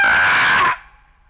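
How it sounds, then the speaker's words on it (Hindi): A person lets out one loud, sustained scream of pain as a tooth is pulled, lasting under a second, then cutting off abruptly into near silence. "उसने जोर से चिल्लाया।"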